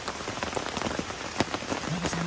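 Rain falls steadily on a dark mountain campsite, a dense hiss of drops with scattered sharper taps on nearby surfaces, close and continuous without talking.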